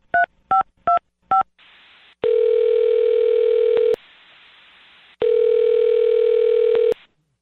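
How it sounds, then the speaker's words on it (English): A telephone is dialed with four quick keypad tones, followed by two long, steady ringback tones separated by silence, all clear and close. "I'm going to dial her phone number right now"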